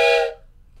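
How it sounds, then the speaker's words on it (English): Short blast from a wooden train whistle, a breathy chord of steam-whistle tones that is loud at first and then fades away within about a third of a second, followed by near quiet. "I do have this wooden train whistle."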